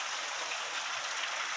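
Steady hissing rain falls continuously at night during a storm in Guelph, without a break, soft and even, with no voices or other sounds on top.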